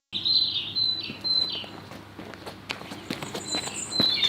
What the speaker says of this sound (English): There's a lot of birds in the trees here.